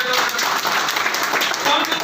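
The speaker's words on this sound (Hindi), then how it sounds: "सर पे जोरदार ताली" A loud audience claps hard, dense applause filling the hall at a network marketing talk, with a voice over it.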